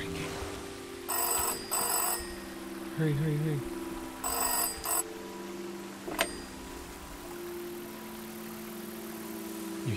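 A phone booth telephone rings inside the video game SEASON: A Letter to the Future, its bright bell sounding in several short bursts over a low steady hum while a voice speaks urgently.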